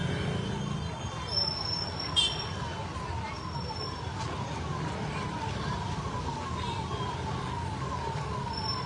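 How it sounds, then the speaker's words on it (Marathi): Ambulance siren wailing in a traffic jam on the way to the Trimbakeshwar temple, fairly distant and repeating beneath a steady wash of traffic and engine noise. "ट्रॅफिक जाम, ॲम्ब्युलन्स आलेली."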